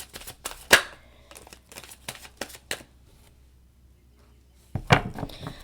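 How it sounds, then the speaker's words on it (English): Tarot cards being shuffled by hand, giving a run of crisp riffling and flicking bursts with a louder snap, a pause, then a final bundle of card slaps, fairly close. "Let me get a couple of shuffles, please."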